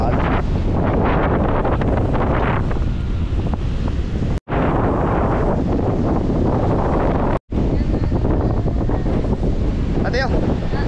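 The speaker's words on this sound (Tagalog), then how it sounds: "Grabe mga alon." Strong typhoon wind roars into the microphone alongside crashing sea waves, a loud continuous buffeting rush with two brief dropouts and faint voices beneath.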